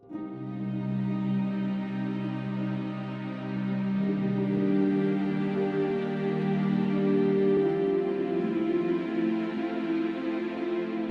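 Sustained orchestral chords from layered strings blended with breathy flute-like and plucked tones swell and shift slowly, with no voices.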